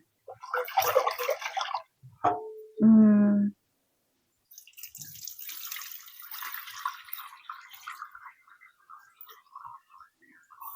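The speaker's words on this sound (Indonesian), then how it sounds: "sekali lagi aku mau cuci berasnya" Rice being washed in water for lontong gives a burst of splashing and swishing. A short tonal sound follows, then a longer stretch of steady, gentle sloshing water up close.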